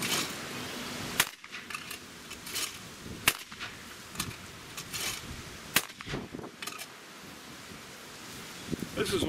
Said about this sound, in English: let's break some clays with the SA20